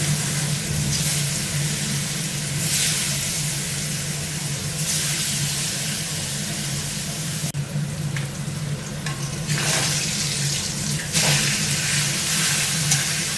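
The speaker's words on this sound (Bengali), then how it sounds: "মাছ দিয়ে দিলাম তেলের মধ্যে" Catla fish sizzles and crackles steadily in hot oil, a constant close frying hiss with a few louder spitting surges.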